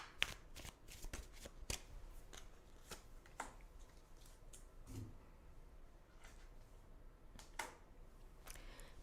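Tarot cards shuffled by hand in a quiet room, with a rapid run of crisp riffling flicks that keeps going steadily at close range and fairly soft level, with no talking over it.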